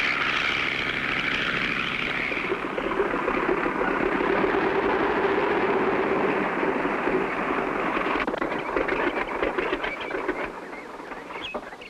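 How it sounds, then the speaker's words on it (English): A propeller airplane in a cartoon drones steadily overhead and comes in to land near a barn, the engine tone shifting as it descends, loud and continuous throughout. "Having picked up the plane, Clutch and Spinner returned to Sunnydale."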